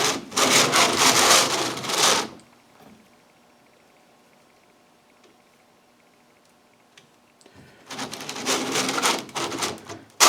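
A hand-cranked 3D-printed sock knitting machine gives two bursts of dense rattling, clicking needle action, with a quiet pause between them.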